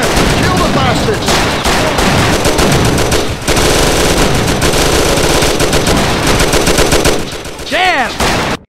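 Loud, dense bursts of gunfire from a shootout in the Mafia video game, with machine-gun rattles and overlapping shots almost nonstop, while voices shout over the firing.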